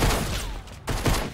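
Rapid gunfire from the video game Fortnite, loud and close, with dense overlapping shots in a burst, a brief gap, then more shots.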